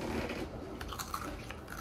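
Crunchy dried carrot from a dried mixed fruit and vegetable snack, bitten and chewed close to the mic, with a steady run of crisp crunches and mouth sounds and no talking.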